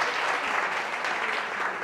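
A church gathering gives a warm round of applause, close and fairly loud, an unbroken patter of many hands clapping for a couple of seconds.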